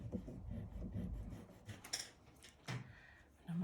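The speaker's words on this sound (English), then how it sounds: "so I'm going to go back in with my rubber." Eraser rubbing back and forth on paper during a pencil shell drawing, faint close scratchy strokes in short bursts.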